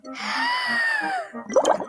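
A soft, wavering bubbling drone of bubbles blown into lemonade, followed by a brief burst of wet plopping and gurgling, close and fairly loud.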